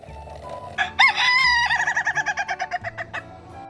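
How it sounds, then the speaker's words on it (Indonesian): A rooster crows once, loud and close, its call rising and then breaking into a long run of rhythmic pulses, with low background noise underneath. "ada ayam pejantan."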